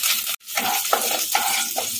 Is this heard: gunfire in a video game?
no